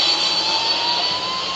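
Jet airliner engines roar steadily at high thrust during takeoff in a flight simulator game, a loud continuous whine with a strong high-pitched tone and no voices.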